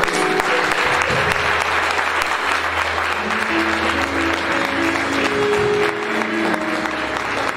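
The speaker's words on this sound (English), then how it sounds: "Let's clap for the Lord." A church congregation claps steadily for several seconds, a dense, even wash of hands with sustained organ or keyboard tones beneath and faint voices mixed in.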